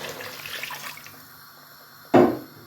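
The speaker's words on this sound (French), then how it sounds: "là je vais rajouter de l'eau" Water poured into a cooking pot for pistachio balls, with a soft trickle at first and then a brief louder splash as the water hits the pot.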